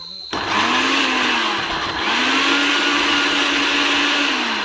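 An electric blender grinds garlic with a loud, close motor whine. It starts abruptly, dips briefly in the middle, then surges back to a steady roar.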